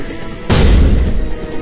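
A single loud, deep grenade boom in Resident Evil 4 erupts suddenly, then rumbles and decays over the following second.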